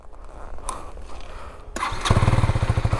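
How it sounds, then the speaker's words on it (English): A KTM Duke 250 Gen 3 motorcycle fires up and settles into idle, starting with a few faint ticks and then breaking into a rapid, evenly pulsing exhaust putter close by, fairly quiet overall. "The idle sound of this KTM Duke 250 is much quieter"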